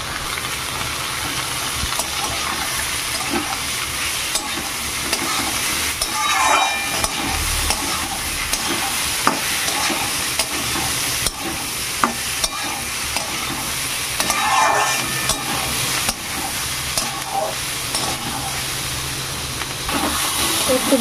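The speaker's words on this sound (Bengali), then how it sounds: "এইগুলোকে এবার খুব ভালো করে ভেজে নেবো একটু।" Pointed gourd with chopped tomato and masoor dal fries in a pan, giving a continuous close sizzle and hiss with occasional scraping stirs, and no speech.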